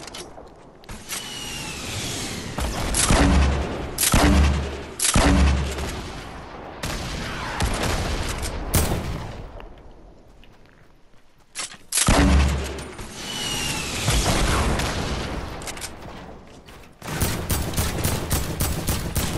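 Video game gunfire: rapid bursts of automatic fire and explosive shots crackle loudly in clusters, with pauses between volleys and mechanical clicks, some shots near and sharp.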